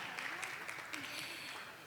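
An awards ceremony audience claps steadily, a soft, continuous patter of applause heard at a distance.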